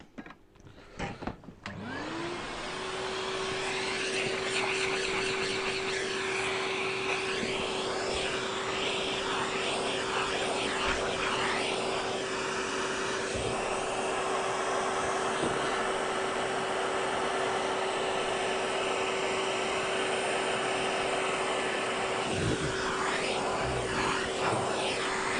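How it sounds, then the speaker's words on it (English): A vacuum cleaner runs steadily and loud, cleaning inside the motor housing of a stripped-down Hoover Junior U1104, a constant whine with a fixed pitch that shifts in texture as the nozzle moves around. "Vacuum inside there."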